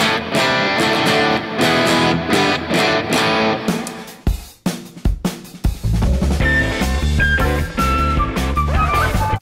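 Electric guitar chords and picked notes through a modulated reverb pedal, washed in a shimmering, wavering reverb, with sustained tails that swirl and overlap, then a rhythmic chugging passage.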